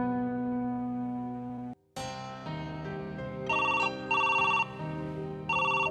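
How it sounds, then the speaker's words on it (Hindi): A telephone rings with a melodic electronic ringtone, sustained tones that pause briefly and then resume with repeating higher beeping bursts, loud and close with no talking. "लो आ गया फोन। लो ये लो, बैल जा रही है।"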